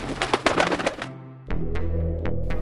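A two-headed phoenix trapped in a snare in an animated Vietnamese folk tale gives several short, bright calls after a burst of music, each a brief chirp standing out clearly against a quiet background.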